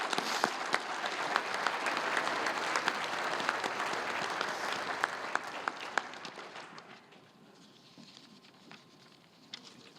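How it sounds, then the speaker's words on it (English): A luncheon crowd at a Missouri Sports Hall of Fame outdoor sports event applauds an honored team, dense clapping that rolls steadily for several seconds before thinning and fading to scattered claps. "Please give this team a round of applause."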